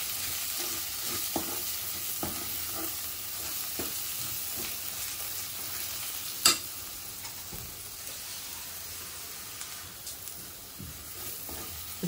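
A pan of homemade Koli masala with five or six kokum being stirred and fried, a soft steady sizzle broken by light scraping strokes and one sharp clack midway; no talk.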